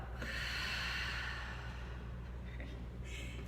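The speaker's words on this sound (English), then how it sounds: "And then an open mouth exhale, let it go." Deep open-mouth exhale during a yoga breathing practice, a long breathy rush of air that swells early and slowly fades over a few seconds, close and steady with a brief softer breath near the end.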